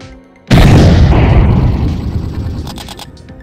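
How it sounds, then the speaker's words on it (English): A rocket-jump explosion in the VR game Neos VR: one sudden, loud, close blast that rolls into a long, fading rumble, with no voices over it. "You wanna see me try and do a rocket jump?"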